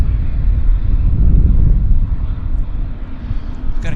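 Airliner engines at Vancouver Airport, a loud steady low roar with some wind buffeting on the microphone, sustained throughout without talk.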